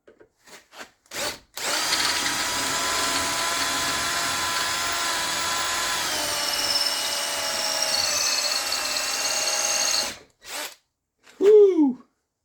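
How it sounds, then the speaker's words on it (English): A step drill runs continuously for around eight seconds with a high grinding whine, preceded and followed by short bursts and clunks. "let's get back into this step drill"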